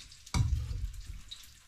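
Fish drops into hot oil with a sudden loud sizzle that settles into steady close frying crackle, with no voices.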